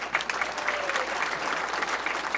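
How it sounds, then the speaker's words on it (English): A crowd at a United Way kickoff event gives a short, full burst of steady applause for former Washington Redskins player Danny Copeland. "How about a round of applause for that?"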